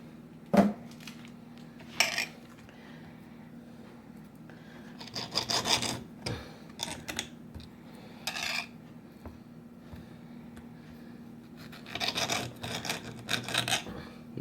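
Knife cutting cooked sausages in a home kitchen, scattered rasping strokes and scrapes on a board, some in quick clusters and others alone, close and fairly quiet against a low steady hum.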